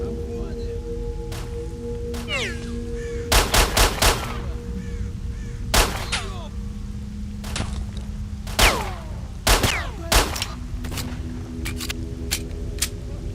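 Gunfire from the shooter game E.Y.E. Divine Cybermancy, scattered sharp shots and short bursts over a steady hum of game ambience, with occasional chirping effects between volleys.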